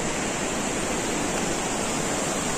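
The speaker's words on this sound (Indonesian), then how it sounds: "kita udah sampai di air terjun satu lagi" Water plunges down a waterfall near Langkuik Tinggi in West Sumatra, a loud, dense, unbroken roar that fills the whole moment without voices.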